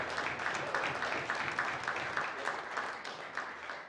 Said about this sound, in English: I ask all honourable members to join me in applauding Mr. Wilbert Weir.